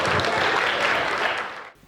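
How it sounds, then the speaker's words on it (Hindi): An audience claps loudly for performer Rohit Pandey at a humorous stage event, a dense steady applause that fades out after under two seconds. "जोरदार ताली बजाइए रोहित पांडे।"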